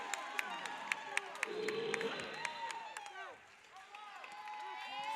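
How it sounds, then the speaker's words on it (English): A home crowd at a women's college basketball game rises in applause and cheering as the players come off the floor, with sustained clapping and crowd noise under an announcer's voice and sneaker squeaks. "crowd giving them a standing ovation as they come off the floor"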